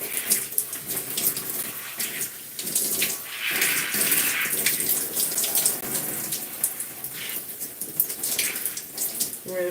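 Water running from a tap while shampoo is rinsed out of natural gray hair, a steady close splashing gush that swells and fades as the hair moves under the flow.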